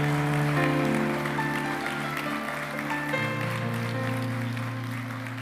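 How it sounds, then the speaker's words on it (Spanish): Congregation applauding during a Spanish-language church sermon, a dense wash of clapping that runs the whole time over sustained keyboard or organ chords, which shift to a lower chord partway through. "Si lo vas a aplaudir, apláudelo con todas tus fuerzas."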